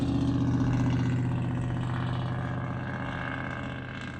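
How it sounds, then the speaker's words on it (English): A motorcycle passes by, its engine drone loud at first and then slowly fading as it moves away. "Hear that motorcycle?"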